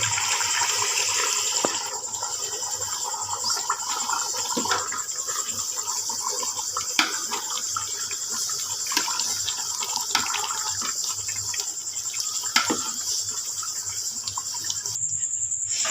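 Running water pours steadily from a tap while dishes are rinsed, with occasional light clinks and knocks of utensils over the flow.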